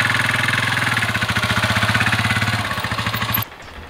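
A vehicle engine idles after restarting, its fears of seizing still fresh: a loud, close, rapid rhythmic chugging pulse that loosens slightly and then cuts off abruptly near the end.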